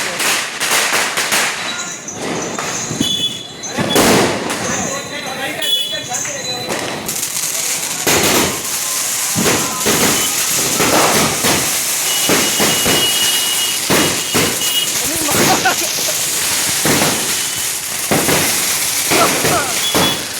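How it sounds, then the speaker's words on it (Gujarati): Diwali sky shot fireworks go off in a rapid run of sharp cracks and bangs over a steady crackling hiss, loud and close, with people talking and voices throughout. "એક આરે પાછા 2 સ્કાય શોટ હવે છોડે છે આ લોકો."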